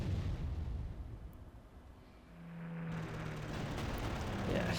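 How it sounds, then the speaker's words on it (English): Low, continuous rumbling explosions from a Russian airstrike in the Panzer Corps strategy game, heavy and sustained throughout and swelling louder toward the end. "let's wait for the Russian airstrike"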